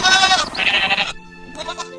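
A cartoon goat bleats loudly and shakily, a wavering high-pitched cry that breaks off and gives way to a quieter sustained tone, with no speech.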